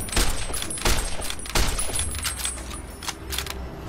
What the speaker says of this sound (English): he's shooting me from that way